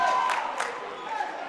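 Liberty fans at a boys JV/varsity high school basketball game clapping and yelling in a gym, a dense crowd roar with a couple of sharp bursts of shouting near the start.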